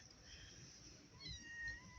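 A green-eyed cat gives soft, faint meows, a couple of short rising calls over quiet background hiss.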